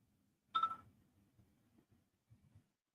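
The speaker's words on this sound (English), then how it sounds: "Why is my phone going off like a damn slot machine?" A phone gives off a short electronic chime or notification tone, one bright burst, followed by faint low rumbling handling noise.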